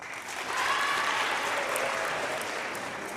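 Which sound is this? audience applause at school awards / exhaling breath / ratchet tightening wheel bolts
audience applause at school awards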